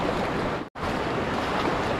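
Large ocean waves wash and roar near a reef in a continuous dense surge, cut by a brief dropout mid-clip, with no voices.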